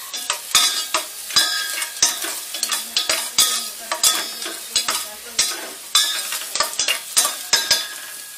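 Onions frying in a pan for a budget Filipino spaghetti sauce, with a steady bright sizzle broken by regular scraping stirs and utensil clinks, close and alone with no talk.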